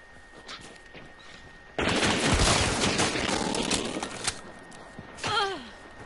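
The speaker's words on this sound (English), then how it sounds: "there's shots to the north too." Gunfire from a video game breaks out suddenly as a loud, dense burst of shots, then thins into scattered pops and fades over several seconds.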